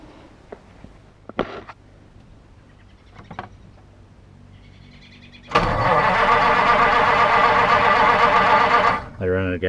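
1951 Mercury engine on a cold start: a few faint clicks and knocks, then the engine catches and runs loud and steady for several seconds before stumbling and cutting out.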